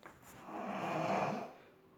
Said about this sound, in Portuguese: Quem ronca isso?